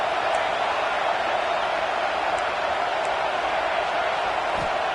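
Stadium crowd at an American football game, a steady, loud roar of many voices filling the whole stretch without a break, with no distinct cheers or claps standing out.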